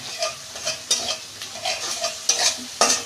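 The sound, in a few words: sautéing spices and green chili in a pan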